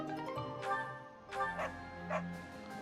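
Dogs bark in Fire Emblem: Three Houses, three distinct barks spaced about a second apart, standing out above soft, sustained background music.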